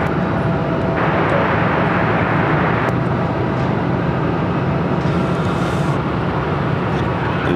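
A plane landing on runway 26 at Phoenix airport sends a steady, loud roar of engine and rushing air across the field. The roar shifts in tone midway, and faint distant traffic hums underneath.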